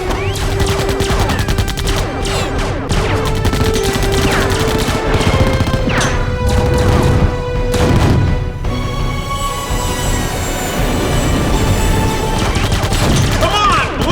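Dense, continuous science fiction film battle noise with repeated blasts, crashes and bursts of gunfire, loud throughout, with shouted voices mixed in.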